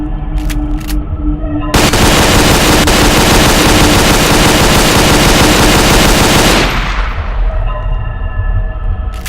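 Sustained automatic fire from a Type 92 machine gun in Garry's Mod, a loud unbroken burst of several seconds that stops abruptly. Quieter game ambience comes before and after it.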